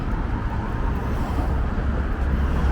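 A very loud car drives past, a steady low roaring rumble that holds throughout, close and dominant.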